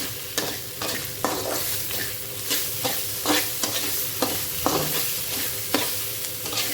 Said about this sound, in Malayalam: ഇത് നമ്മുടെ മസാല നന്നായിട്ട് ഡ്രൈ ആയിക്കൊണ്ടിരിക്കുന്നുണ്ട്. ഇത് കണ്ടിന്യൂസ് ആയിട്ട് ഇളക്കിക്കൊണ്ടിരിക്കണേ.